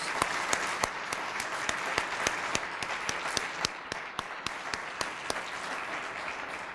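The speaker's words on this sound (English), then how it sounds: "Could we give one more round of applause to all our finalists and winners?" An audience at an ethics awards event applauding finalists and winners, a steady, moderately distant crowd applause with a few sharp, close claps recurring at an even rhythm over nearly seven seconds.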